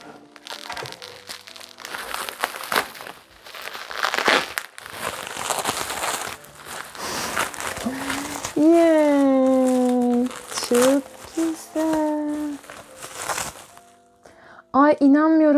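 Plastic packaging on a delivered parcel being unwrapped at home, giving loud, close crinkling and rustling in bursts, while someone talks over and between the handling sounds.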